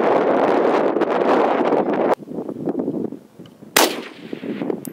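SKS rifle firing Yugo ammunition at a 390-yard target on a windy range, one sharp, loud, close gunshot midway through, set against heavy buffeting wind noise on the microphone.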